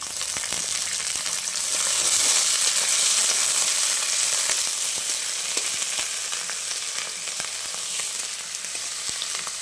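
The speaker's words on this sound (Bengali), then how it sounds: "এখন আমি দিয়ে দিচ্ছি মাছের তেলটা।" Fish oil sizzles hard in a pan with onion and garlic, a loud, dense, continuous frying hiss with crackling bursts and faint stirring, swelling midway and then easing slightly.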